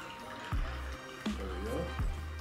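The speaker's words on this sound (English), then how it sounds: "we're going to start with 45 ml of bourbon" Bourbon is poured from a bottle into a highball glass while building a Presbyterian cocktail, giving three distinct glugs at a steady rhythm over a low background hum.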